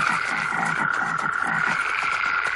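Frogs croaking in a repeated, rhythmic chorus, fairly loud and steady throughout with no talking.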